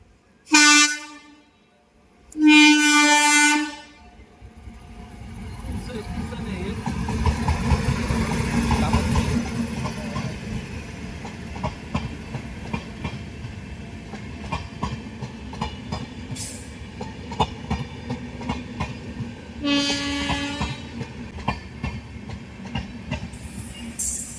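The Hirakhand Express passenger train, bound for Bhubaneswar, sounds two loud horn blasts, then rumbles past with rhythmic clickety-clack of wheels, another horn blast near the end.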